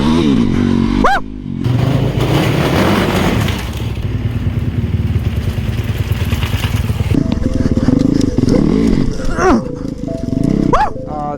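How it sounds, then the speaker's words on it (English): A 2019 Yamaha YZ450FX dirt bike converted into a street-legal supermoto revs loud and close, its engine pitch sweeping up sharply several times over a steady roar, with voices shouting over it. "This is a 2019 YZ450FX. I converted it to a street legal Supermoto."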